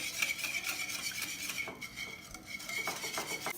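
Cream cheese and sugar whisked by hand in a bowl for a cheesecake, with a fast, steady rhythm of wire strokes clicking and scraping against the side, close and continuous.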